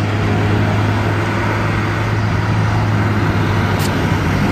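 Steady, dense roar of road traffic near the Sázava river by a castle area with a parking lot, cars, trucks and buses blending into a constant close wash of engine and tyre noise with no voices.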